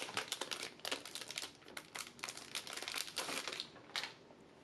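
Packaging for an Adventure Time Card Wars 10th Anniversary box is opened with a steady run of close, crisp crinkling and rustling, like plastic wrap and cardboard being handled, with no talking.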